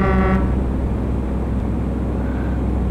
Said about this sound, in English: They always just honk at each other.